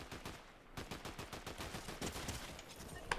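Rapid, steady gunshots from the video game Fortnite rattle continuously at moderate volume throughout, with a sharp higher click near the end and no voices.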